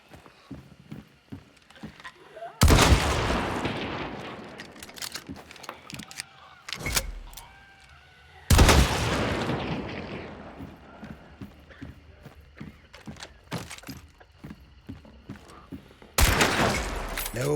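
Heavy gunfire from Hunt: Showdown, with three loud bursts of broadband shots near 3, 8.5 and 16 seconds, separated by quieter stretches of clatter, rattling and smaller impacts, with no voices.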